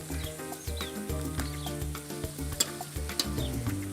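Orange pepper sautés in butter on an outdoor grill with a soft sizzle and occasional clicks, while background music with steady tones plays throughout.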